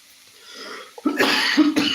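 A person coughs twice, harsh and close, after a brief quiet breathy lead-in.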